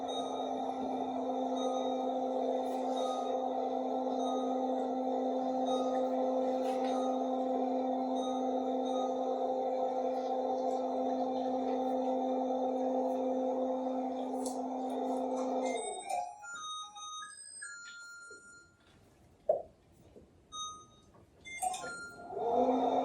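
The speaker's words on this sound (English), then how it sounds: "each time that microwave makes the starting sound, it makes a beep and then the humming sound starts" A microwave oven runs with a steady electronic hum and tonal whine, then stops abruptly, followed by a few short clicks and faint beeps.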